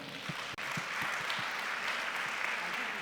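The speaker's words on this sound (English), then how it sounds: "Please give a very warm welcome round of applause for Foluke Aboderin." An audience at a women-in-the-workplace panel gives a warm round of applause to welcome a banking executive, steady crowd clapping filling the room with one sharp break near the start.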